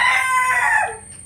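A young rooster of about one and a half kilograms lets out a single loud, close crow that holds briefly and then trails off.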